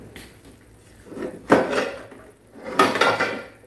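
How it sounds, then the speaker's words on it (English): Metal pots and pans clatter and clank in two bursts as someone rummages through a kitchen cupboard for a pan lid, close and fairly loud with quiet gaps between. "And I got to find my lid to this pan."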